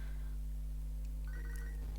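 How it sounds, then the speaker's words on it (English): In Pokémon SoulSilver, a Pokégear phone call rings as a short chiptune melody of bright electronic tones over a steady low background music hum. "Oh, Wade's sending me a phone call."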